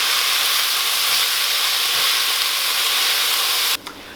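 Onions fry in a pan for Egyptian koshari with a loud, steady hiss and sizzle that drops off abruptly near the end as the heat is lowered.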